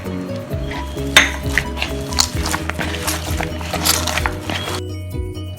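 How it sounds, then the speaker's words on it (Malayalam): Oiled hands knead a stiff dough, making soft, squishy pressing and slapping sounds with occasional light knocks against a bowl, over a steady low background hum. "നമുക്ക് കുറച്ച് എണ്ണ കയ്യിൽ ഒഴിച്ചിട്ട് ഒരു വശം കൂടി കുഴക്കാം"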